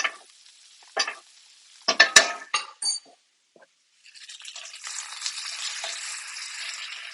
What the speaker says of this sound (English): now that the butter is melted, we're going to baste this a few times on each side